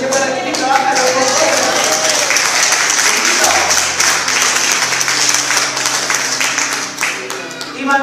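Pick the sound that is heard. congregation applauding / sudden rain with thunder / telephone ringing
congregation applauding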